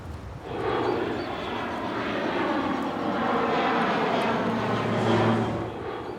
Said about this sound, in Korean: 주 정부 소속의 화재 진압 비행기가 날아와 방화제를 뿌립니다.